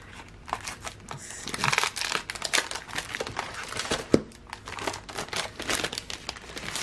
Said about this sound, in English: So it's just a bunch of paper that you can rip up